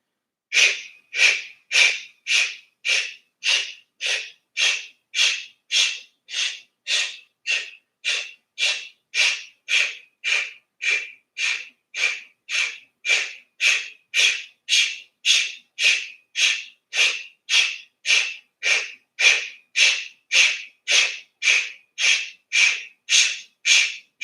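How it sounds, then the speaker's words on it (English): A Bikram yoga breathing exercise produces a long series of quick, forceful, breathy exhales, close and evenly paced at about one and a half per second. They continue for over twenty seconds with no talking. "And exhale all that air out to prepare"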